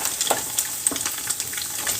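Tofu steaks fry in a skillet, browning with a bright crackling sizzle and scattered sharp pops, close and fairly loud, with no talking.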